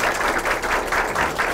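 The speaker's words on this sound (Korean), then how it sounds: "여러분 큰 박수로 맞아주십시오." Seminar audience applauding to welcome a presenter from a Korean employment research institute, steady dense clapping filling the room throughout, with no speech over it.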